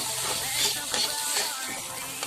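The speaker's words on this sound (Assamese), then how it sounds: "কম জুই দি কণীখিনি ভাজি অলপ গুড়া কৰি দিব" Fish roe frying in a pan over low heat, with a steady soft sizzle and faint scraping stirs throughout, fairly close and continuous with no voices.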